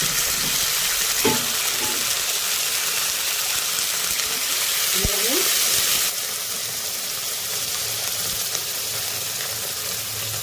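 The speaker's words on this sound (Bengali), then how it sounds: "এবারে এখানে দিয়ে দেবো 2টো টমেটো কাটা" Chopped tomatoes hit hot oil with ginger and green chilli paste in a pan, giving a steady broad sizzle and hiss that runs throughout, with a few brief clinks of utensils and the frying easing slightly partway through.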